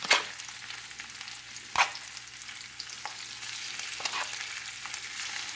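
Shrimp sizzle steadily in olive oil in a frying pan, a close, even crackle with a few louder clinks and scrapes as they are stirred.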